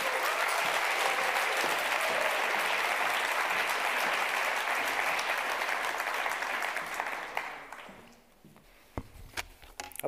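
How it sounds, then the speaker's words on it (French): Audience applause at the final of an eloquence contest, a dense sustained clapping from a large hall that fades out after about eight seconds, leaving a few scattered claps. "Mesdames et messieurs, merci d'applaudir Ryan Redzer."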